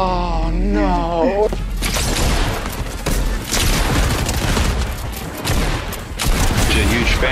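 Rapid bursts of assault rifle fire in a video game, loud and close, with dense overlapping shots and booms running throughout while a voice talks at the start.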